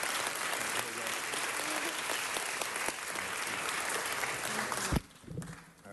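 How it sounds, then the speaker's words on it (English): An audience applauds an award presented to Nia Long at an African American Heritage Month event, a dense sustained clapping that cuts off abruptly near the end, leaving faint room noise. "Let's give her a round of applause and congratulate her."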